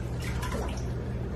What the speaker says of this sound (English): Give those onions a bath